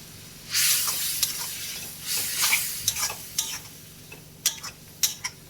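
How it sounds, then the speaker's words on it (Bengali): Kashmiri chilli and spices sautéed in a pan for fish-head moong dal, a steady sizzle and frying hiss punctuated by sharp spatula taps and scrapes, close by with no voices. "এবার এটা আমি ভালো করে কষিয়ে নেব।"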